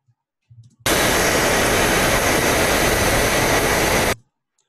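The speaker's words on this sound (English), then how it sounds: "there is a rocket sound in the game," A game rocket effect built from a processed hair dryer recording bursts in as a loud, dense, steady roaring hiss, holds evenly for about three seconds, then cuts off abruptly after a few faint knocks.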